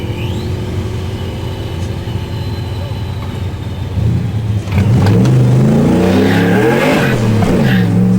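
A supercharged Ford V8-powered 2002 Volvo 740 race car accelerating onto the track at a One Lap of America event, engine loud and close, rising in revs after a steady idle-like drone, with voices talking underneath.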